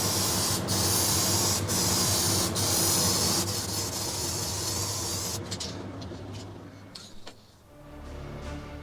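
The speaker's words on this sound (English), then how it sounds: "I'm going to go ahead and seal it with some Crystal Coat varnish." Crystal Coat matte varnish sealer sprays from a can in a loud, close hiss broken into several bursts, then stops, leaving softer handling noises and a quiet background.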